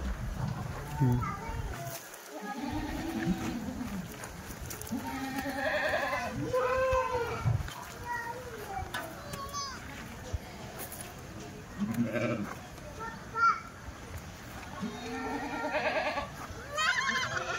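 Several Kathiawadi goats bleat repeatedly, near and loud, from a newly arrived vehicle of goats and sheep, with people talking in between and over the calls.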